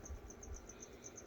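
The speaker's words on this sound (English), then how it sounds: "Some of the crickets are pretty tiny." Crickets inside a gecko enclosure give a faint, steady series of quick high chirps, repeating evenly and sounding close but quiet, with no other sound over them.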